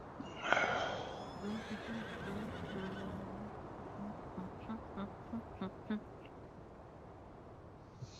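A horse whinnies loudly near the start, followed by a series of soft, evenly spaced clip-clop hoofbeats, with faint ambient game sound underneath, in Farming Simulator 19 on the Attingham Park map.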